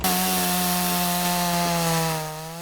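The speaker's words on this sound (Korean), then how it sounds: "이를 제거하는 데엔 전기톱이 제격이지만 늘 위험이 도사리고 있어" A chainsaw cuts through large tree roots during big pine tree transplanting work. It gives a steady, loud, sustained whine for a few seconds, then eases slightly at the end.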